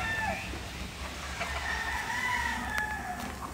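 Bantam chickens in a pen at Parque da Água Branca, São Paulo: a rooster crows amid continuous nearby clucking from the flock, fairly loud and steady with no voices.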